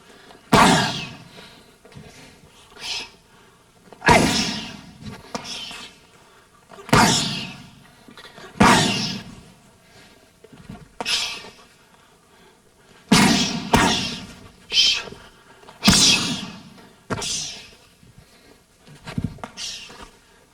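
Muay Thai body kicks land on Thai pads in sharp, loud smacks, singly and in quick pairs, with pauses between each strike and a faint roomy echo.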